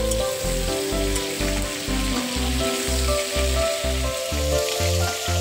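Cauliflower florets frying in oil, a loud bubbling sizzle with a rhythmic low chugging pulse running throughout, close up and steady without speech.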